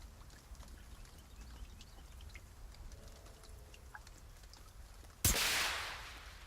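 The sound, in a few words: flare gun fired in video game The Forest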